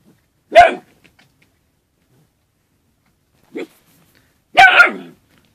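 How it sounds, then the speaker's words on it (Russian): A three-month-old Central Asian Shepherd (Alabai) puppy barks sharply twice, with a softer short yelp in between and silence around the barks. "Вот эта, которая гавкает"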